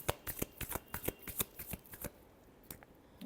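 Tarot cards are shuffled by hand in a rapid series of crisp riffling slaps and flutters, close and clear, with a brief pause near the end before a final snap.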